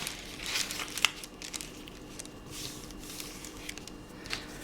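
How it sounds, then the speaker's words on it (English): Wallpaper folded along scored lines and pressed flat with a bone folder gives soft, close crinkling and papery rustles, with one sharper crackle near the start, in a quiet room. "next you want to fold in on your score lines and just run your bone folder over"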